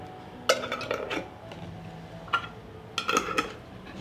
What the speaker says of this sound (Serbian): Zatvaramo tegle sa čistim i novim poklopcima.